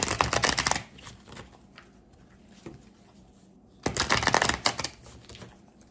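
Tarot cards are shuffled in two brisk riffling bursts, close and crisp, separated by a quieter stretch of faint handling sounds.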